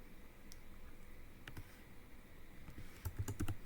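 Typing on a computer keyboard while writing Python code in PyCharm, a steady patter of soft key clicks with a few sharper taps and a quick burst of strokes near the end, close and moderately quiet.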